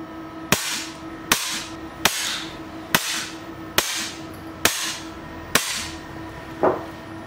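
A .22 air rifle fires 5.5mm pellets at high power, seven sharp, loud cracks spaced roughly a second apart, each with a brief ringing tail over a steady low hum.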